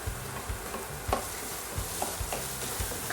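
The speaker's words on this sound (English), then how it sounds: "you want to keep stirring because otherwise the onion's gonna burn" Onions frying in a pan for mushroom risotto, stirred with a utensil: a steady sizzle runs underneath while scrapes and knocks land at irregular intervals, recorded close and at moderate loudness with no talking.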